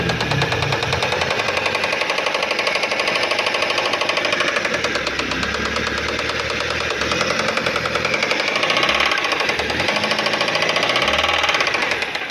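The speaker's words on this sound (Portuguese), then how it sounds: "Aí tá batendo o pistão, né?" Car engine with a knocking piston, a fast, loud metallic rapping that repeats steadily under the running motor, close and continuous throughout, no voices.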